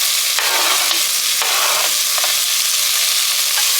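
Jalapeños and garlic sizzle loudly in a pan for Texas chili, a dense continuous hiss broken by scraping stirs.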